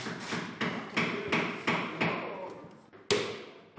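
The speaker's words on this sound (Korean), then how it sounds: "그리고 난 뒤 각 연결 부위마다 망치질을 다 해줘야 하는데" At a woodworking school, a hammer strikes the glued joints of a three-tier wooden drawer chest during assembly, with about ten sharp, ringing blows at a steady pace and each blow decaying before the next.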